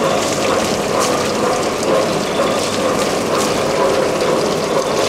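Steady mechanical whirring and rattling from an electric motor driving a peeling machine for white musli roots, continuous and fairly loud throughout with no pauses.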